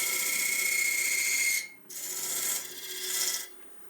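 A hand tool cutting a dovetail into a wooden calabash bowl, a loud, even rasping stroke followed by two shorter passes after a brief pause.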